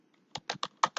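A command typed on a computer keyboard: five crisp, close keystrokes in quick, slightly uneven succession, each a sharp click.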